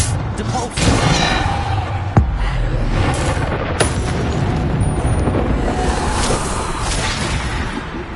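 Booming Bombarda spell blasts in Hogwarts Legacy, a loud continuous roar of explosions and crashes with sharp impacts rising out of dense combat noise, with voices casting spells.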